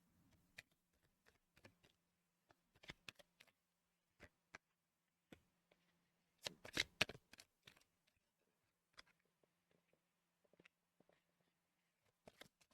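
Tarot or oracle cards being shuffled during a spoken energy-healing reading, heard as quiet, irregular papery ticks and flicks with a short denser riffle burst midway, close and faint with no talk.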